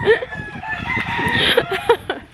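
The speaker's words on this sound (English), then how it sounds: "he has so many chickens and roosters" A rooster crows nearby, rising and stretched out, while several chickens cluck in short bursts around it.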